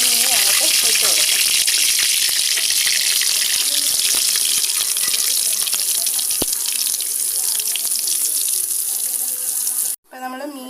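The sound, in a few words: dried fish sizzling as it is put into hot oil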